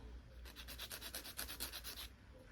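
Rapid rhythmic strokes of a file reshaping an acrylic nail during a fill-in, about a dozen close, scratchy back-and-forth passes in a quick steady run, with no talking.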